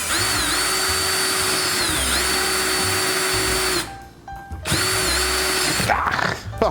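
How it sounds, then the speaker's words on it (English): A power drill whines steadily and loudly close by for several seconds. It cuts out briefly, then revs up again, boring into a model-building part. "what I want to do is drill this so far."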